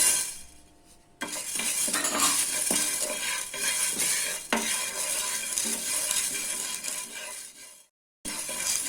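Black peppercorns dry-roasting in a hot pan for homemade chicken masala powder: dense, continuous rattling and clinking of the dry corns tumbling and being stirred against the metal, loud and close, with a brief pause near the end and no talking.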